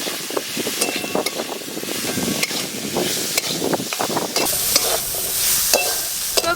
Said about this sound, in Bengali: সবজি ভালো করে ভাজা ভাজা হয়ে গেছে